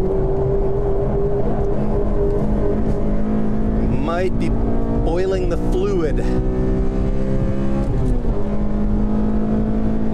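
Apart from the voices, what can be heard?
Honda Civic Si driving hot laps on track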